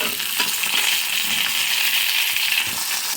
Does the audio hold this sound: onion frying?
yes